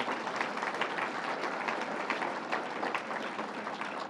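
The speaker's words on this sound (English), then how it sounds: "Dottie Gallagher, let's give her a round of applause" Steady clapping from an audience, a dense wash of applause that stays even and fairly distant throughout.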